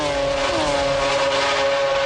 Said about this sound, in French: Quel freinage de Gigi Leto, tout en travers à la bord de la 2e chicane